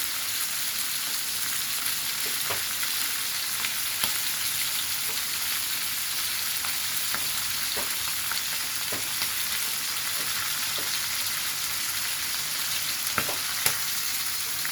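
Hilsa fish pieces and hilsa roe frying in oil in a pan, a steady dense sizzle throughout with scattered small pops and crackles, close and even, with no voices.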